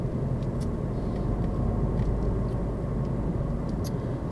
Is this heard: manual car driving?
yes